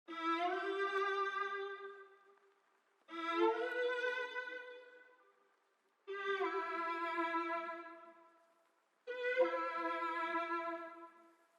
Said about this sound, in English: I used this Kill September Mercury 3 one-shot kit, and I just chose those 4 string phrases